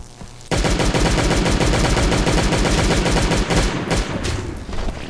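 Rapid machine gun fire from the Last Day on Earth video game rattles out in a dense, continuous burst of shots. It is loud and close, starts abruptly after a brief quiet moment, and tapers slightly at the end.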